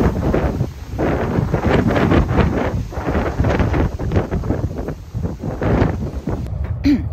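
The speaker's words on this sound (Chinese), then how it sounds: "今日大风蓝色预警" Strong gusty wind during a blue gale warning buffets the microphone outdoors where a hexagonal butterfly-shaped camping tarp is pitched, a constant roaring rumble with surging gusts throughout and no clear talk.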